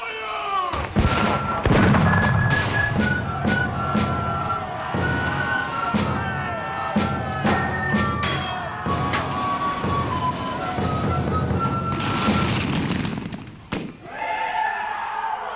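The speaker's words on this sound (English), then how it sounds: "The woods and fields reverberate with the sound of fife, drum, and cannon." Repeated heavy booms of cannon fire at an American Civil War reenactment ring out at irregular intervals, loud and reverberant, with rumbling echoes and busy background noise between blasts.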